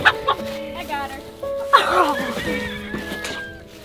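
Chickens cluck and squawk in short, agitated bursts while being caught during a coop move, the calls close and fairly loud amid background commotion.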